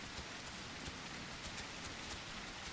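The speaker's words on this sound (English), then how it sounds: "It's too loud. It's too much rain." Heavy rain in The Isle Evrima, a steady, dense hiss of downpour with faint pattering drops throughout, fairly quiet and without voices.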